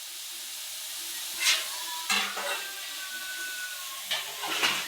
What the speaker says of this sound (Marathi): मसाला चांगला कच्चा असला ना तर चांगला भाजू द्यायचा बघा.